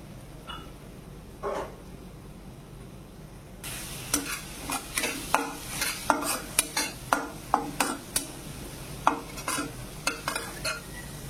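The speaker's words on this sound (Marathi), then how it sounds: "हे चांगलं परतून घ्यायचं. हळद टाकायची," Potato-pea samosa filling sautéing with turmeric and cumin in a pan, a quiet start followed by a steady sizzle and repeated rhythmic clicks of a spoon stirring against the pan, close and without talking.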